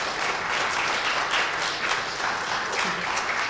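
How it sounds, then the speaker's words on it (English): Thick, enthusiastic applause fills a graduate hooding ceremony for a school of social work as the audience thanks graduates' loved ones, many hands clapping in a continuous, even roar with no talk over it. "So please give your loved ones a round of applause to thank them today."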